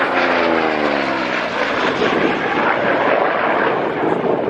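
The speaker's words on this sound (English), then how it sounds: "Now, ladies and gentlemen, from your right, the Corsair." A Corsair propeller warbird passes at the Wings Over Wairarapa airshow, a loud close engine roar with a falling pitch sweep as it goes by, sustained for the whole stretch.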